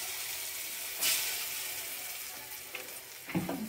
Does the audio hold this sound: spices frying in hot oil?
yes